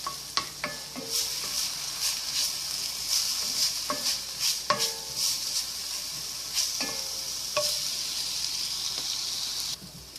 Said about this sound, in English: So you're just gonna spin that around a little bit until the onions get a little bit translucent.